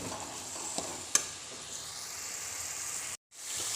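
Jaggery melting in a pan, giving off a steady bright sizzling hiss with a couple of faint utensil taps, briefly cutting out before the hiss resumes.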